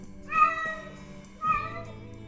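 A cat gives two distinct meows, the second shorter, clear and fairly close against a quiet background.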